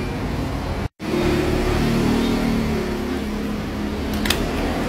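Roadside traffic beside the street rumbles steadily as cars pass, with an engine drone rising and falling, loud and close, after a brief dropout near the start.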